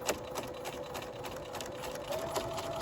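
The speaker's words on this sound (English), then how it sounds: "I'm going to backstitch all the way over the webbing" A sewing machine backstitching over bag webbing runs in a steady, close, fairly quiet mechanical whir with a fast even needle rhythm and a brief pitch rise near the end.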